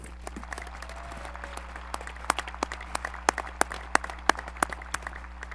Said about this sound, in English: Can we please give them both a round of applause?